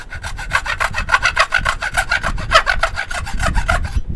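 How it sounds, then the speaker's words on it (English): A wooden side vise on a small woodworking bench pulled out, giving a close, rapid run of rasping wood-on-wood rubbing strokes, regular and fairly loud, stopping abruptly after about four seconds. "side vise that will vise out just like that. Give it a little pull"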